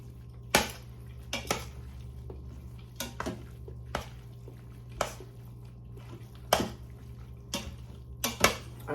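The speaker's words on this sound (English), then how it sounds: "I'm going to stir this up" A spoon scrapes and clinks against the pot in sharp, irregular knocks as milk is stirred into an egg noodle casserole in an Instant Pot, with a steady low hum underneath.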